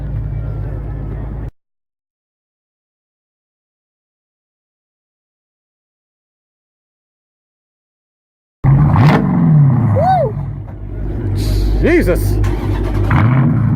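American muscle car at a Cars and Coffee meet: a loud engine roar opens, cuts to silence, then returns with hard revving and rumbling, close by, while people shout and talk over it.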